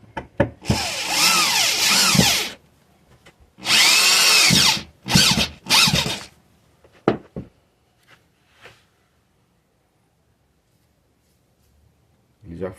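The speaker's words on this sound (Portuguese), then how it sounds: "o jeito que coloca a parafusadeira para que ele possa afundar" A cordless electric screwdriver drives a screw into wood at a woodworking bench, sounding as two long whirring bursts followed by several short ones. A voice speaks between bursts, and quieter clicks and handling sounds come near the end.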